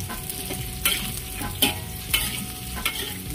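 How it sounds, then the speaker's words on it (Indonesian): Onion and chili fry in a pan for soy-sauce prawns, a dense, loud sizzle filling the background while a spatula scrapes through them in regular strokes roughly every three quarters of a second, close and without speech. "Kita masukkan ini semuanya ya, bawang bombay dan cilinya ya"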